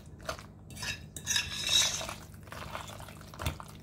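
A spoon scrapes and clinks against a pot while cheese mixture is stirred into pasta for baked ziti, with close metallic taps and a wet stirring swish, no talking.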